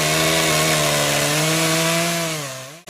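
A chainsaw engine drones loudly and continuously at a steady pitch, close and dominant, then abruptly cuts out with a sharp dip at the end.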